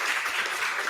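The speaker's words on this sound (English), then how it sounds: "We can all clap up for that." A senate meeting audience claps in a brief, dense burst of applause, steady and fairly loud for about a second with no voices audible over it.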